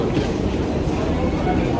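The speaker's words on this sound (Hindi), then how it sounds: "प्रॉपर रुक ही नहीं रही मेट्रो।" A Delhi metro train runs with a steady low rumble and rolling rail noise, a continuous close drone without distinct clicks.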